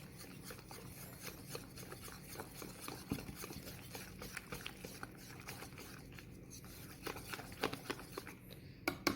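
A utensil stirs thick chicken tender batter in a bowl, making continuous soft, close scraping and squelching with small irregular clicks, quiet and without talk.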